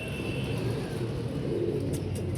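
Pigeon cooing from a loft of pet pigeons, soft low repeated coos close by over a steady background hum of ambient noise.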